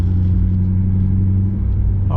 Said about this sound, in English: I can give the car a bit of a punch here